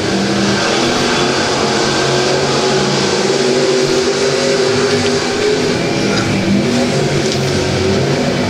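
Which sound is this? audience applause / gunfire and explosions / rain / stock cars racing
stock cars racing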